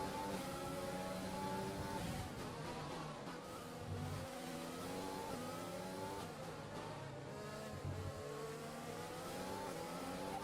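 Formula 1 race car engine in the video game F1 2020 at the Russian Grand Prix, a steady high-revving whine with repeated gear-shift pitch sweeps, loud and continuous throughout, alone without talk.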